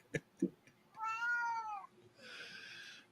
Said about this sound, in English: Oh, I heard the meow.